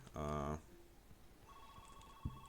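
A telephone rings in the video game Samson with one loud, tonal ring burst, then a softer electronic tone follows over faint background noise.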